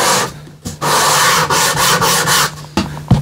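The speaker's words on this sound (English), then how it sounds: "I was just going to keep sanding these sides until they're about, I don't know, 2 millimeter?" Wooden sides for a Harmony Stratotone-style electric guitar body are being sanded in close, loud back-and-forth strokes with brief pauses between passes.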